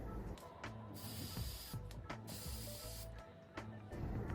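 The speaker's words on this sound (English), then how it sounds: "I'm next going to take the Unite 7 Seconds It's a glossing spray." Repeated short hissing bursts from an aerosol can of Unite 7 Seconds glossing hair spray, close by, with brief gaps between sprays.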